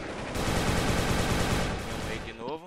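Rapid gunfire from a Desert Eagle pistol in a first-person shooter game, a dense, loud run of shots for about two seconds that tapers off near the end.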